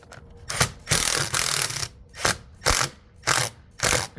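A screw is driven through aluminum track to clamp it against a trailer wall, heard as repeated ratcheting bursts of grinding drive noise separated by short pauses, close and loud.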